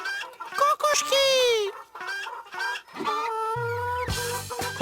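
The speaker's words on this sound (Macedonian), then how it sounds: "Гледам. Кокошки." Cartoon chickens on a farm clucking and squawking loudly in quick, animated bursts, near and continuous, with some drawn-out cackles.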